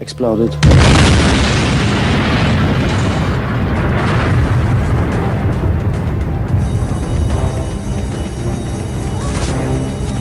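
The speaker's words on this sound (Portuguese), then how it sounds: "Quando aproximei a imagem da placa, o carro explodiu." A car bomb detonates in a van near government buildings, a sudden massive boom that rolls into a long, loud roar of rumbling debris and chaos, with a voice heard through it.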